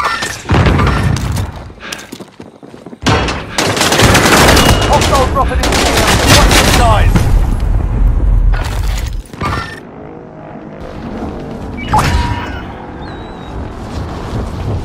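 Gunfire in Warzone on Rebirth Island, loud bursts of automatic fire and heavy booming shots in quick succession, filling most of the stretch with brief lulls between volleys.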